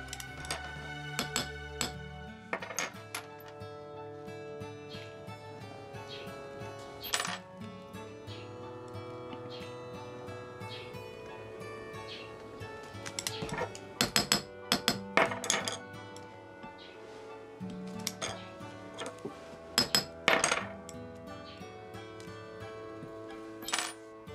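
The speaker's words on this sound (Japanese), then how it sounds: "一つの部分に布目を切って金線乗せ、打ち込みを連続して行います" Small metal hammer taps drive gold wire into the cross-hatched iron of a sword guard in Higo inlay, a steady run of light, ringing clinks with scattered louder strikes.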